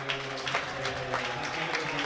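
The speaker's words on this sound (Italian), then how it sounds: "Si fanno sentire con gli applausi il Bello. pubblico romagnolo" Crowd applause at a basketball game in Rimini, steady dense clapping filling the arena for a couple of seconds without any break or talking.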